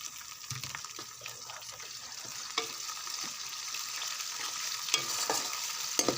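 Chopped tomatoes and green chillies hit hot frying onions for a Pakistani masala fish curry, giving a steady sizzle with occasional stirring clinks and scrapes in the pan, close and without talking.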